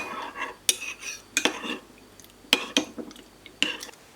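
Dry yeast stirred into milk in a bowl, heard as a series of sharp close clinks and scrapes of a utensil against the dish, spaced irregularly with quiet gaps between them.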